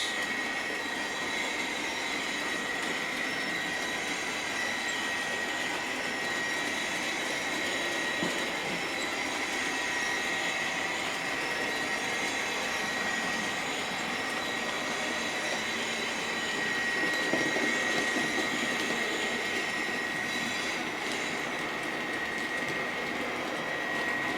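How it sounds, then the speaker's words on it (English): Bachmann Class 57 model diesel locomotive running with digital sound on a layout, giving a steady droning engine and rolling hum with a faint high whine throughout, even and continuous, with no talking. "The great thing about only running one digital locomotive is all the sounds don't blend into one like 3 stereo systems."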